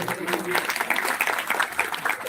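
Audience applause at a Hindu religious gathering for a Ram Katha, steady dense clapping filling the whole stretch, fairly loud, with some crowd voices mixed in.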